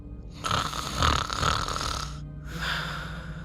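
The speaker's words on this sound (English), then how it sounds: "an old woman snoring in the next room." An old woman snoring in the next room: two long, rasping snores, the first drawn out and the second shorter after a brief pause, steady and fairly prominent.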